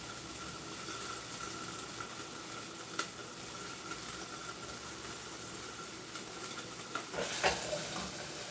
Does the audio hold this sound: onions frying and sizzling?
yes